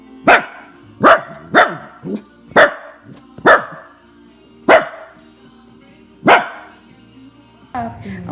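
A dog barks in sharp, loud single barks spaced about half a second to a second apart, eight in all, close by, with a baby and people making noises at the end.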